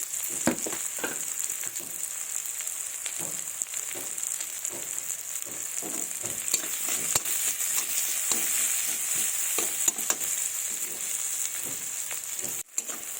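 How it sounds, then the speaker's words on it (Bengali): Chopped onions fry in mustard oil with a little salt, a steady close hiss of sizzling with faint scrapes and taps of stirring running throughout, no voices. "পেঁয়াজগুলোকে হালকা লাল করে ভেজে নেবো"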